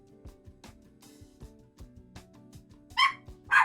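Indoor pet dogs, agitated by thunder, break into two sharp, loud barks near the end after a stretch of quiet background music, the barks sounding close and sudden.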